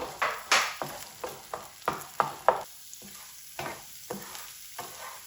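Ginger garlic paste frying in a pan, with a soft sizzle under repeated stirring scrapes that come in short, regular strokes and fade toward the end.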